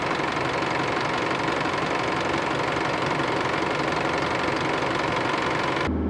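A car engine running steadily at raised revs, around 2,500 rpm, while it warms up to operating temperature after the radiator cap goes back on. The drone is loud and continuous, with no voices, and it cuts off abruptly at the end.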